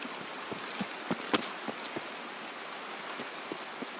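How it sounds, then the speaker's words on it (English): Steady rain falls in the Escape From Tarkov game, a soft continuous patter with scattered sharper drips and taps, fairly faint and without voices. "Oh, and it's raining now."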